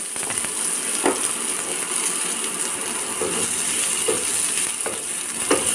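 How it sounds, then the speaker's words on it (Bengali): Bitter gourd frying in hot oil for a Bengali uchhe chorchori: a steady, fairly loud sizzling hiss with a few sharp clicks and pops scattered through. "এখানে উচ্ছে চচ্চড়ির জন্য উচ্ছেটা ভাজতে দিয়ে দিলাম"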